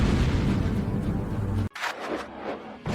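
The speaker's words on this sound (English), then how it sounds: "Boom! An explosion of supersonic waves, interplanetary heat, dust, fumes." A booming explosion effect for an asteroid impact, a loud roaring rumble that cuts off abruptly, followed by softer scattered crackling debris.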